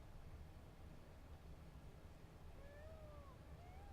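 Peacock calls in the video game Witcher 3 sound like cat meows, two faint rising wails near the end over a quiet, noisy ambient background.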